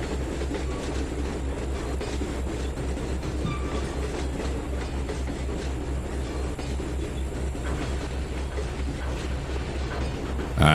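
Train pulling a string of boxcars in the Trainz 2019 railroad simulator game: a steady, continuous rumble of rolling wagons with faint rhythmic clacking, moderately loud and unbroken, with no talk.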